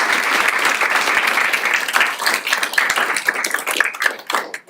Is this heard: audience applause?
yes